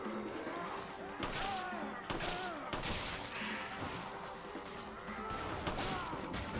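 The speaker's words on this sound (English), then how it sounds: "Chris, why four did you miss with a shotgun?" Shotgun blasts from Chris in Resident Evil 5 Mercenaries, three or four heavy reports spaced about a second apart over a dense, busy game mix with shouting enemies and background noise.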